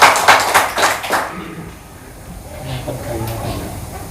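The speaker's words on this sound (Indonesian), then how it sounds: "Tepuk tangan buat kedua narasumber." An audience at a Surabaya public forum claps for two speakers in a short, fairly loud burst of about a second, which gives way to a speaking voice and quieter hall ambience.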